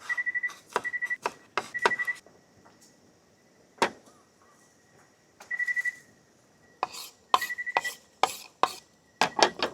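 A knife chops ingredients at a lakeside campsite by Lake Caliraya: crisp, close strokes come in quick bursts separated by pauses, with a thin steady whistling tone and quiet outdoor background between them.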